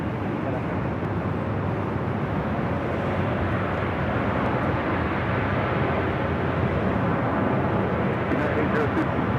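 A heavy airliner, Tahiti 7, departs a runway at LAX, producing a continuous broad engine roar that stays steady and fairly loud throughout, with radio talk heard over it.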